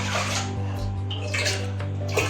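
Water is poured while making homemade orange squash, a brief, soft, steady splashing stream over a low electrical hum, with no voices.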